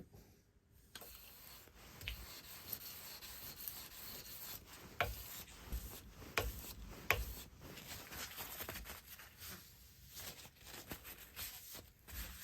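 A bushcraft knife blade is sanded by hand with 600 grit sandpaper: a steady, close rubbing scrape with occasional light ticks and strokes, continuing for about twelve seconds with no talk.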